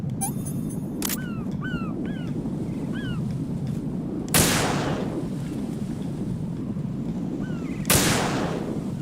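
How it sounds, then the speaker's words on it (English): Grenade launcher fire in Metal Gear Solid 2: Sons of Liberty, two sharp booming shots several seconds apart over a steady rumbling game ambience with brief chirping electronic tones early on. "Grenade launcher."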